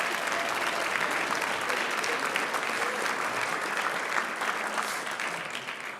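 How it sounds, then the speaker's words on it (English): A congregation applauds at the close of a service, just before a closing hymn; a full, steady round of clapping from many people that tapers slightly near the end. "We can clap, sure."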